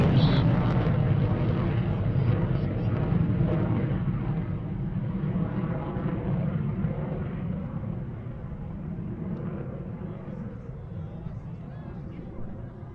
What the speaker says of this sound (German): Doch Flugzeuge suchten schon nach uns.